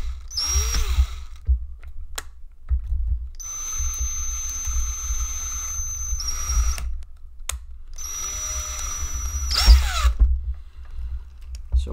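Power drill boring into a Spengler Neutrona Wand prop, two sustained whining bursts of several seconds each with a steady high motor pitch, close and loud over handling noise.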